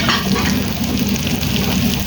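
Garlic and onions frying in a pan at home, a steady close sizzle and crackle that runs unbroken throughout, with faint stirring beneath.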